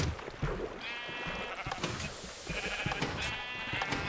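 Sheep bleating in Minecraft, around a water elevator in a sheep and cow pen, several loud repeated bleats close by over a busy game background, no talking.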